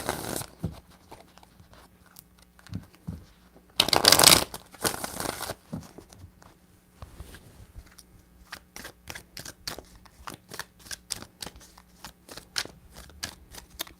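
Tarot cards being shuffled by hand, with quick riffling bursts and a loud crisp burst early on, followed by a rapid series of sharp card taps and flicks, close and alone.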